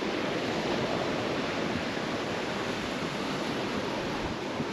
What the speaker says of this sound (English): This is Langden Brook. Just coming down from the fells.